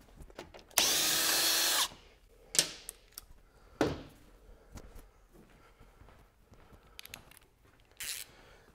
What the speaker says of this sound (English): And this is the T40 Torx bit that we're using.